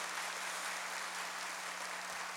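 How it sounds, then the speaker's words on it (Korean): A church congregation gives a steady wash of welcoming applause, even and sustained throughout, heard from some distance at a fairly low level. "환영의 박수 부탁드리겠습니다"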